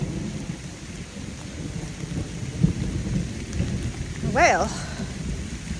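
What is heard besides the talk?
heavy rain pouring on tent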